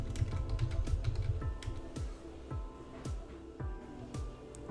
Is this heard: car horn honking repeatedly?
no